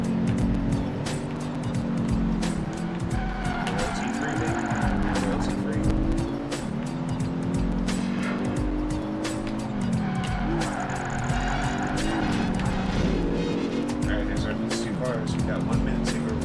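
Video game car chase with several engines racing and tires squealing, a steady loud mix of revving and skidding with music-like tones and a voice talking over it throughout.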